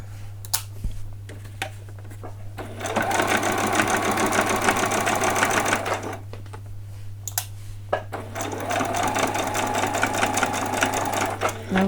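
A sewing machine stitches jeans for a doll in two long bursts of rapid mechanical clatter, separated by a short pause and a few clicks, with a steady low hum running underneath throughout.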